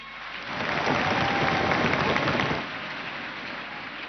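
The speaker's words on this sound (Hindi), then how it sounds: "आपकी तालियां बताएंगी कैसे हैं आप लोग?" A crowd at a live national conclave bursts into clapping that swells quickly, holds as a dense, rain-like patter for about two seconds, then drops back to a quieter murmur.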